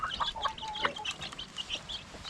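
Native chickens cluck and chirp close by in short, irregular bursts, with faint farmyard rustling underneath.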